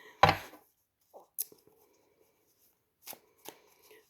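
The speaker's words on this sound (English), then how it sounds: "I'm just going to shuffle them" White Rider universal tarot cards being shuffled by hand: a few short, soft riffling bursts and quiet taps separated by pauses, close and faint, with no voices.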